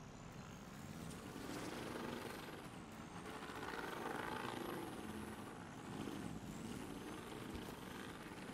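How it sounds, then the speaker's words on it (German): Rotor roar of a helicopter nearing an extraction zone in the shooter game The Division 2, a loud continuous broadband drone that swells and eases slightly throughout, with no talk over it. "Helikopter ist fast in der Bergungszone."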